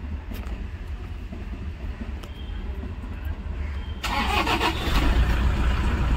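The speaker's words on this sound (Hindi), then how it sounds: "और गाड़ी हमारी स्टार्ट हो गई है फाइनली" Toyota Innova car engine cranking and catching after an immobilizer replacement repair, starting about four seconds in and settling into a steady, loud idle close by with no talk.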